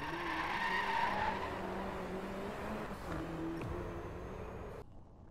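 A car drifts through a turn in the racing game DriveClub, its tires skidding with a sustained squeal over a steady engine drone, fading at the very end.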